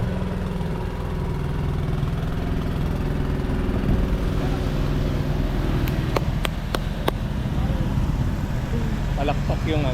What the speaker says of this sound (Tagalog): Ayun, may tricycle.